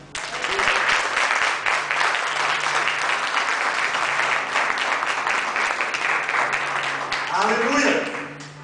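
A church congregation gives sustained, dense applause to the Lord during a worship service. The clapping is loud and steady throughout, and a voice rises over it near the end.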